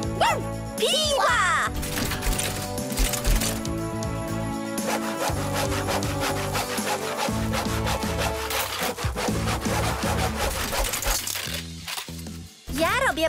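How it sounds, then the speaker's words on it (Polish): A cartoon saw cuts back and forth through wood in a quick rhythmic rasp that runs steadily for most of the scene, close and loud, with music and children's voices underneath. "Piła!"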